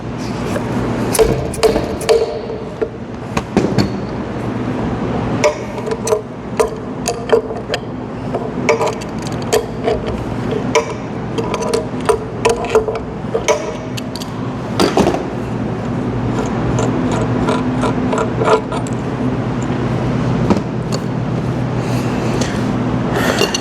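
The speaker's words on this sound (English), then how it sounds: "First, we're going to go ahead and take off the fluid suction valve." Metal parts being removed from a Medusa unit during a rebuild, with the fluid suction valve coming off: a steady series of sharp taps, knocks and clinks of tools on metal, close and fairly loud, with no talking.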